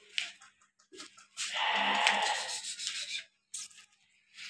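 A goat bleats loudly and close by in a livestock market selling sacrificial goats and sheep. There are several short, wavering calls with a sustained cry in the middle and brief pauses between them.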